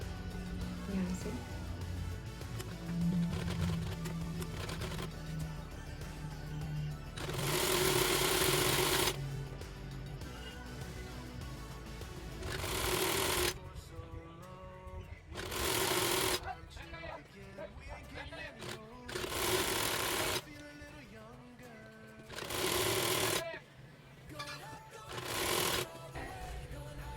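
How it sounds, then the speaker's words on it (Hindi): A sewing machine stitches the fitting seam of an Anarkali kurti in repeated bursts of whirring, each running a second or two with quieter pauses between, close and fairly loud over faint background sound. "उसके बाद ही आपको फिटिंग की सिलाई लेनी है।"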